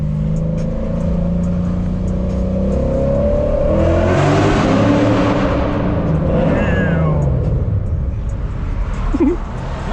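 A loud, tuned Lexus RC F with an FBO setup revs hard inside a tunnel, the engine note rising and echoing as it accelerates, heard from the cabin with a brief voice near the end.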